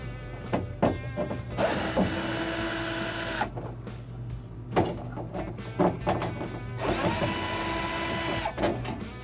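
A power drill backing Phillips screws out of a refrigerator's back panel: two sustained whirring bursts a few seconds apart, close and loud, with clicks and handling noise between them.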